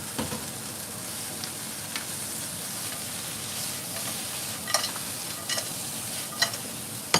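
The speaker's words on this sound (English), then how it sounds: "you first add your lobsters back. Fry." Lobster pieces fry with garlic in a hot pan, a steady close sizzle with scattered crackles and a few louder pops and stirring scrapes, no voice over it.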